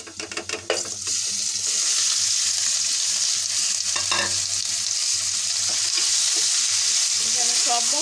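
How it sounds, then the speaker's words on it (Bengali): Mutton pieces added to fried onions in hot oil, opening with a few clatters before a loud, continuous sizzle that keeps going close by with no talking. "এখন এটাতে আমি মাংসটা দিয়ে দিব"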